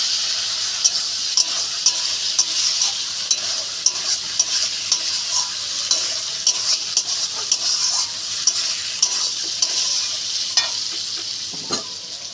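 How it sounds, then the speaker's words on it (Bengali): Fried shrimp and fried potatoes sizzle steadily in a pan while being stirred, with a continuous bright hiss and frequent small scraping clicks, close and alone. "এবার এর মধ্যে চিংড়ি মাছ ভাজা আর আলু ভাজাটা দিয়ে দেবো, দিয়ে ভালো করে নাড়বো"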